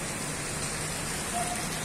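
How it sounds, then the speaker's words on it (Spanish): Steady rain falling outdoors in the south of Cali after a storm, a dense, even hiss with no breaks over a short stretch. "Sigue lloviendo acá en el sur de la ciudad de Cali"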